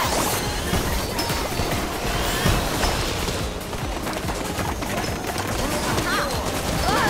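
Ink weapons fire in rapid bursts in the Splatoon video game, a dense, continuous splattering rattle with sharp hits, loud and close throughout.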